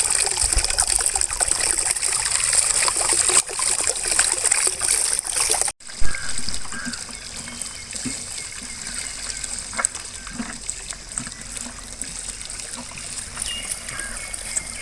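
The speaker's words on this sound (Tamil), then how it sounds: "நல்லா கீரைகளை வாஷ் பண்ணிவிட்டு அதுக்கப்புறமா போயிட்டு நம்ம கட் பண்ணிக்கிடுவோம்" Thandu keerai greens being rinsed under running water, a steady trickling and splashing stream that runs continuously at close range with a brief break partway through, with no talking.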